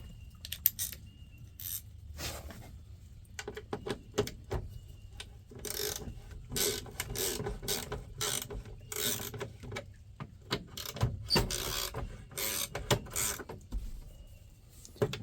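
Small clicks and scrapes of a Torx driver loosening screws on interior trim of a 1994 Ford F-150, a close, irregular run of tool and plastic sounds with no talking.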